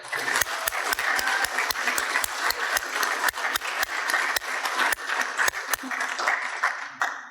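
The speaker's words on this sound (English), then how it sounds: "How about another round of applause for that?" A graduation audience at the NNSY 1LSHV ceremony breaks into a steady round of applause after a speech, dense hand claps filling the room with a few sharp, louder claps standing out close by throughout.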